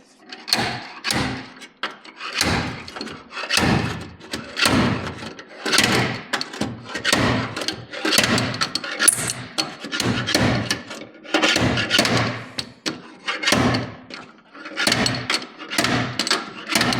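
A jack being worked under a square-body truck, with steady, repeated metallic clanks and ratcheting knocks about twice a second, close and fairly loud, without talk.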